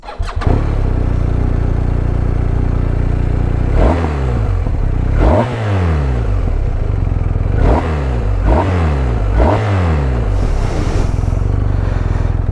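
A BMW R1250RS boxer-engine motorcycle idles with a deep steady rumble, blipped by about six sharp throttle revs that rise and fall, close and loud, no talking.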